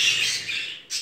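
Jumbo crested budgerigar chick giving a continuous high, raspy begging call for about a second, close and fairly loud, with a brief pause before a second burst.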